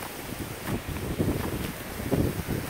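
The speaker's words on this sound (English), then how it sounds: "it's a little windy today" Gusty wind, about 20 mph gusting to 40, buffets and rumbles across the microphone in uneven surges in the Arizona desert, a steady outdoor roar with no voices.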